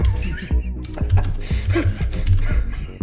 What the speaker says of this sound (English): You have the loudest fucking keyboard I've ever heard.